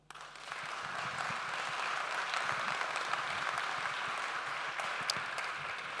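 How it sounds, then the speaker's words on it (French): Audience at the We Are French Touch 2023 event breaks into steady, full applause that swells quickly and holds evenly throughout, with no voices standing out. "et je vous demande de les applaudir"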